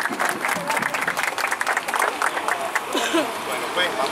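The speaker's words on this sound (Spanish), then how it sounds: "¡Aplausos!" Applause from a crowd at a Central American peace-and-freedom torch ceremony, steady dense clapping that keeps going with cheers and crowd voices mixed in.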